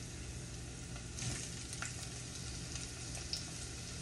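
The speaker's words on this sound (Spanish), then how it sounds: "Y vamos a mover hasta que la cebolla bote un poco su sabor y tome una apariencia transparente" Chopped white onion and bell pepper sauté in a pan with minced garlic, giving a steady soft sizzle with occasional scrapes and clicks of stirring, fairly quiet and continuous with no voices.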